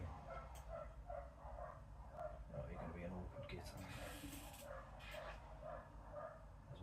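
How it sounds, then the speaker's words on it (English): Several dogs barking outside, heard as a steady run of faint, muffled yaps and barks in the distance under a low room hum, with a person talking nearby. "Dogs are kicking off outside."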